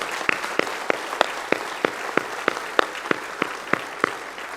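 An audience at a school graduation ceremony claps in a steady, evenly spaced rhythm, each sharp clap standing out over a soft background wash, with no talking.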